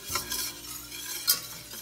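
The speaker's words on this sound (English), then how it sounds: "we're going to put in that flour. Can you hear it? And now just start stirring" Flour being stirred into a sizzling roux in a Dutch oven for gumbo, a soft scraping stir over a steady frying hiss, close and fairly quiet with one brief sharper clink near the end.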